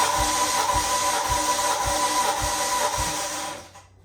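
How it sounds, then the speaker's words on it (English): A 1.8T car engine cranking over on the starter during a compression test, with about six steady, evenly spaced low thumps at roughly 0.6-second intervals over a constant whirring hum, then a sudden drop-off near the end. "I'm gonna crank it like 6 times."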